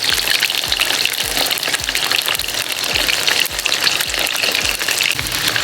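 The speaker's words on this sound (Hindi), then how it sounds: "हल्का सा हमने डीप फ्राई करना है।" Fish pieces lightly deep frying in oil for korma, a dense continuous crackling sizzle with bubbly spitting, close and steady throughout.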